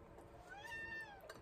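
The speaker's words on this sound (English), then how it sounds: "do you guys hear my cat?" A house cat gives a single drawn-out meow, faint and somewhat distant under quiet room noise.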